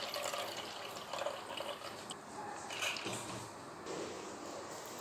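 Soaked moong dal is drained through a strainer into a thick bowl, water trickling and splashing faintly and steadily nearby, with no voices.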